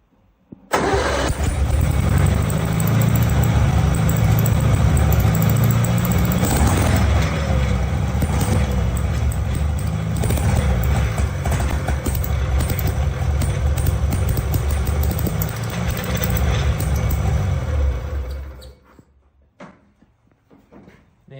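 The engine of an 89-year-old Austin 7 car, refitted with a basic ignition system, starts and runs loudly and roughly for about seventeen seconds, then cuts off abruptly into near silence.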